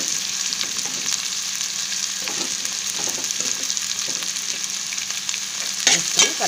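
Ginger garlic paste frying and being stirred in a hot pan, a steady bright sizzle running throughout with soft scraping strokes of the spoon and a louder stir near the end, no talking.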